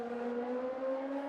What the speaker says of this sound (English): You can just hear the engine whirring away.